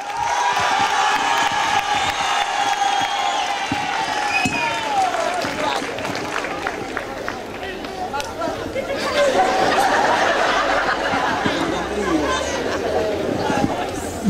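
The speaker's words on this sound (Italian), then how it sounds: "applauso per lui." A crowd at a parish feast-day show applauds and cheers for a performer, with clapping mixed into lively chatter and voices that swell again toward the end.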